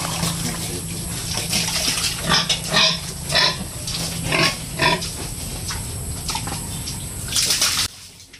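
Hogs eat wet feed up close, grunting and slurping with repeated wet smacking and splashing bursts over a steady background hum, then an abrupt stop; no talking.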